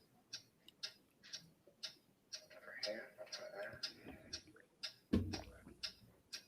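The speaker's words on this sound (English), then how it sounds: "What is that mysterious ticking noise?" A rhythmic ticking runs through this Potter Puppets animation, sharp regular clicks roughly every half second, with a voice talking and singing over the middle portion.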